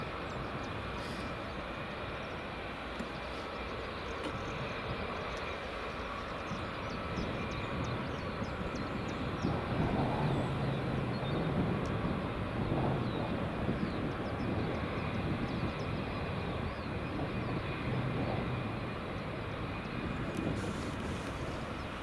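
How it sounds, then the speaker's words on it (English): An EasyJet airliner on approach at Edinburgh Airport in the early morning, a distant, faint engine rumble that swells gradually over a steady background hiss. "Here comes EasyJet."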